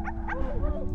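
A cartoonish dog in the video game Wandersong gives a quick couple of yappy barks and whimpers over a continuous game music bed, short and fairly loud.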